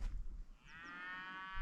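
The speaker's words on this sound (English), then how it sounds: "Yeah, so those cows were just there." Cattle low in a long, drawn-out moo from nearby on a pasture on Terceira Island in the Azores, a single sustained call after a burst of wind or handling noise, with no talking.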